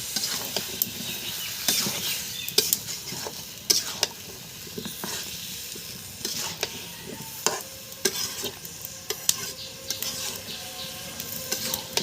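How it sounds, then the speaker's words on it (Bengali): Vegetables are sautéed in a hot pan during home cooking of boal fish dishes, with steady sizzling and repeated scraping stirs of a utensil against the pan, close and moderately loud, with no voices. "সবজিগুলো ভালোভাবে কষিয়ে নেব।"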